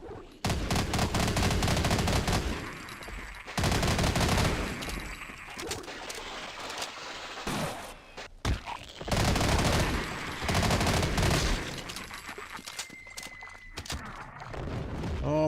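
Gunfire in Half-Life during a firefight, loud bursts of rapid shots in several clusters separated by quieter gaps, with little talk over it.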